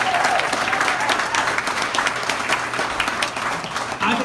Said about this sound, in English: Can we please give a great round of applause for Delegate Bloxham?